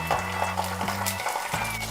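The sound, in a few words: ginger garlic paste frying with onions in a pan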